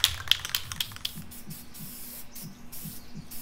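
A can of khaki camouflage spray paint applying a base coat on a deck, with a soft, close aerosol hiss and a few light clicks and taps at the start.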